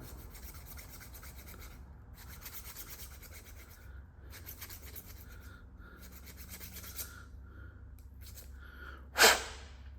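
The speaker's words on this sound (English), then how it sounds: "I take a chainsaw file, just rub it around on the inside" A chainsaw file rasps back and forth inside a brake line nut in short rhythmic strokes, close and fairly quiet, ending with a sharp louder scrape.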